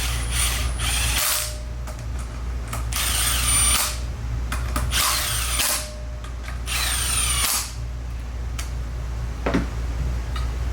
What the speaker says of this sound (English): And then you can take your impact, run them down to where they're tight.